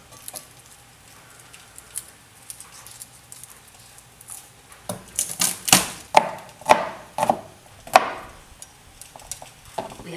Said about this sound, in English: Garlic mashing time.